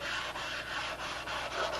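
Close, steady back-and-forth sanding strokes on wood, a continuous rasping hiss with brief dips between passes.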